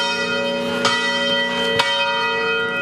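A church bell rings out with rich sustained harmonic tones, struck twice at an unhurried pace, each strike blooming over a lingering hum.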